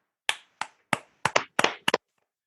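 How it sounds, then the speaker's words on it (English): Seven or eight crisp hand claps ring out close and dry on a podcast, spaced irregularly and quickening toward the end, with no talking over them. "They're not called claps anymore."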